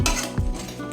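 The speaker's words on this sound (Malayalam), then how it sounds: "ഇതെല്ലാം കൂടെ നമുക്കൊന്ന് മിക്സാക്കി കൊടുത്തിട്ട് വറുത്തെടുക്കാം" A spoon stirs and scrapes garam masala and turmeric as they roast in a pan, giving a short burst of metallic scraping and soft sizzle with a clink midway.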